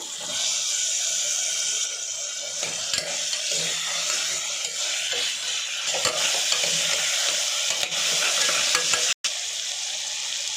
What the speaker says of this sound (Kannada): ಟೊಮೊಟೊ ಸ್ವಲ್ಪ ಫ್ರೈ ಆದಮೇಲೆ ಆಲೂಗಡ್ಡೆ ಹಾಕ್ಕೊಳ್ತಾ ಇದ್ದೀನಿ.